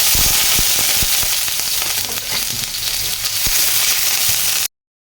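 Garlic and onion sautéing in a hot pan, a loud close crackling sizzle with sharp pops and stirring scrapes that cuts off abruptly near the end.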